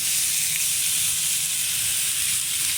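Meat searing in a hot pan over high heat gives a steady, loud, close sizzle with a broad hiss that runs unbroken throughout, with no voices.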